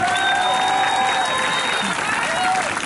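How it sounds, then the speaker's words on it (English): Outdoor rally crowd applauds and cheers for the next speaker at a George Floyd protest, a continuous broad roar of clapping with whistles and shouts rising above it. "Give her a round of applause, ladies and gentlemen."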